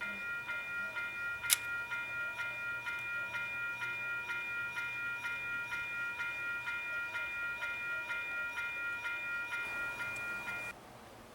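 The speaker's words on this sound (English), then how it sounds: "now we're going to listen to one of the other bells" The small bell of a Kato N scale model railroad automatic crossing gate rings in a fast, even repeating ding, steady and metallic, continuing for several seconds before stopping abruptly.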